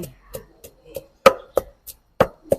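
Chilies and garlic pounded in a mortar for an Isan bamboo-shoot dish, giving about nine sharp, separate thuds in an uneven rhythm, close and fairly loud with short silences between strikes.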